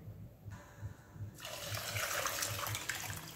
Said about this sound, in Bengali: এভাবে আমি জলটা আবারও ছেঁকে নিলাম